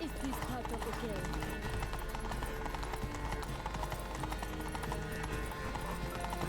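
A horse gallops with steady, continuous clip-clop hoofbeats in The Witcher 3: Blood and Wine, loud and up close throughout, with game voices speaking over the rhythm.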